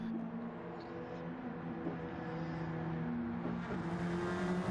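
Race cars in Gran Turismo accelerating as a pack on a restart, a dense layered engine drone with rising revs, steady and moderately loud, with no voices.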